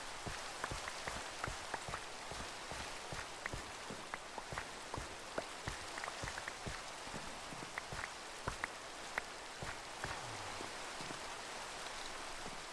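Steady video game rain patters on surfaces with scattered drips and taps, soft and continuous, no talking.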